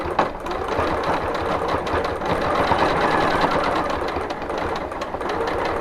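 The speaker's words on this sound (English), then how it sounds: "I'm going to go ahead and try and finish this stitch. Hopefully my machine will cooperate." A sewing machine runs steadily as it free-motion quilts a woodgrain pattern on a Grace Company Q-zone hoop frame with Hobby Lobby thread, giving a dense, continuous, close-up mechanical whir with no talking.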